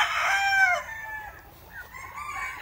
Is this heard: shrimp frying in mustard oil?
no